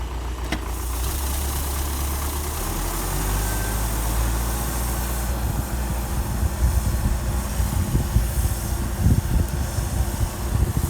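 A steady, low tractor engine drone runs throughout, rumbling evenly at idle with no voices.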